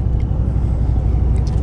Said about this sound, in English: If you can't tell, we're in the truck.